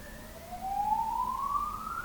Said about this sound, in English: I think we've got a siren out there.